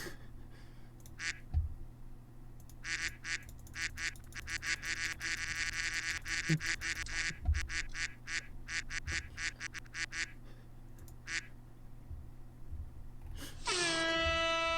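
A duck quacking sound effect repeats in loud bursts of nasal honks, clustered in rapid trains across the clip and ending in a sharp, tonal horn-like blast.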